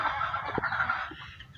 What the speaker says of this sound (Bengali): মুরগিতে ডিম পাড়তিছে।